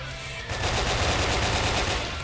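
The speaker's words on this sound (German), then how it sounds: "Trotz Nachladen, Marcel abgeschossen" Rapid automatic gunfire fills a round of the Brick Force video game, a loud, dense, continuous burst of shots close up with no pause.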